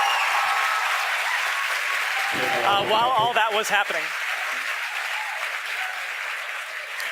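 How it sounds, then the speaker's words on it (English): A crowd at SpaceX headquarters in Hawthorne applauds and cheers loudly and steadily throughout, with excited shouts rising in the middle and a voice talking over the clapping. "The crowd's going nuts here at SpaceX headquarters in Hawthorne."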